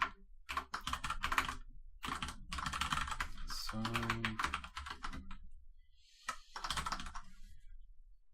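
Rapid computer keyboard typing in bursts of quick clicks, separated by short pauses, close by and fairly quiet.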